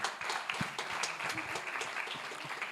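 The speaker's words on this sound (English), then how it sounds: "A huge round of applause for Easy Equities" Audience applause greets finalist Easy Equities of South Africa at a fintech challenge semi-final, a steady patter of clapping filling the hall without a break and with no voices standing out.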